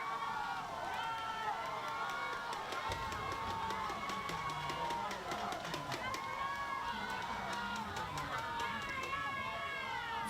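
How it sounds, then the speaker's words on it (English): Baseball crowd at a gold medal game between Palau and Guam, a continuous roar of cheering and shouting from many fans, with an announcer talking over it throughout. "They are cheering."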